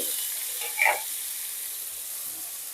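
Cut flat beans and pumpkin drop into a hot frying pan with a brief clatter, then a steady bright sizzle hisses on evenly.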